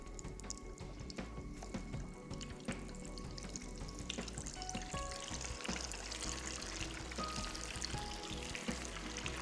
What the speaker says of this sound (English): you just want to fry it till it's light golden in color